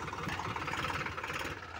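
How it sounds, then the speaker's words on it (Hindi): A Sonalika DI RX 35 tractor, stuck while hauling a fully loaded trolley, runs with a steady, fairly faint engine drone and a soft rhythmic throb, with no voices. "फंस गया ट्रैक्टर"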